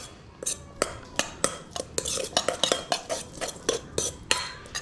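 A utensil stirring and scraping ingredients in a bowl in a home kitchen, with repeated close clinks and scrapes in a steady, slightly uneven rhythm and no talking.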